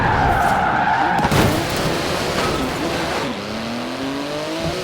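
Sports car with a 3.8-litre twin-turbo flat-six in Forza Horizon 4 on the streets of Edinburgh, tyres squealing through a skid, then the engine revving up through gears, loud and close.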